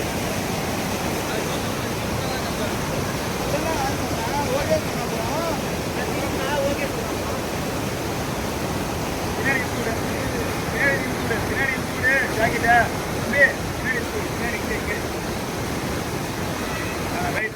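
Rushing water at Karumalai Estate waterfall in Valparai pours steadily and loudly, a dense unbroken roar, with a few faint higher sounds rising over it.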